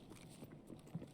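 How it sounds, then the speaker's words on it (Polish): Quick, soft rhythmic footfalls of someone running in a video game set in the Interchange mall, faint and somewhat muffled, with a slightly heavier thump near the end. "Ktoś biegnie."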